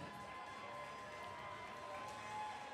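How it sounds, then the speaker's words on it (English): A crowd at a robotics competition regional event cheers and shouts for the Red Alliance in a loud, steady roar that swells slightly near the end. "Let's hear it if you're cheering for the Red Alliance."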